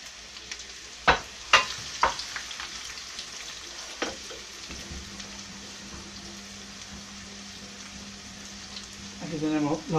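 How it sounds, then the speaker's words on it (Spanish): A refrito of onion sizzles and fries in a pan, with a few sharp spattering pops early, then a steady crackling hiss that swells near the end as more goes in. "Esto es un refrito que vamos a hacer para que salga aún más rico."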